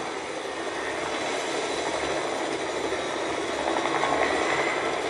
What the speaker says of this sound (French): on, se rebarre en hélico.